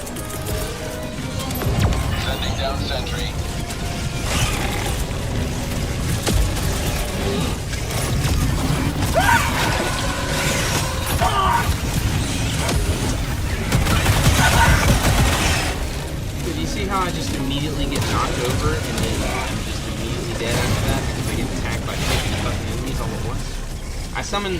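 A sentry turret deployed in Helldivers 2 fires steadily amid constant mechanical clanking, ratcheting and bursts of gunfire in a dense, loud battle mix, with a voice talking over it throughout.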